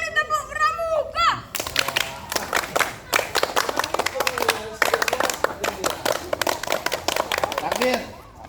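A scout group at a one-day campout claps in a fast, rhythmic patterned sequence of sharp hand claps. A voice is heard briefly at the start before the clapping begins.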